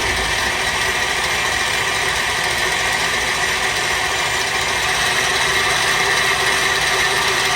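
A KitchenAid stand mixer motor runs continuously, a steady, fairly loud mechanical whine and hum with slight vibration that barely changes across the whole stretch, with no voices.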